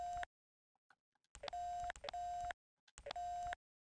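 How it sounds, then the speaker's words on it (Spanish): Telephone dialing in the X-Files PlayStation video game: three clean electronic tone bursts, each with a sharp keypad blip and a steady ringing beep, separated by silence and faint clicks. "Espérate, voy a llamar a Asta. A Bárbara. Vamos a llamar a Bárbara."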